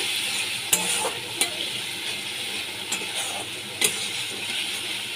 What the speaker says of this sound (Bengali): অল্প একটু জল আমি দিয়ে দিচ্ছি। ভালো করে কষিয়ে নিচ্ছি।